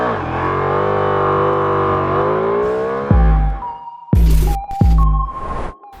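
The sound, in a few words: Ducati Multistrada V4 motorcycle engine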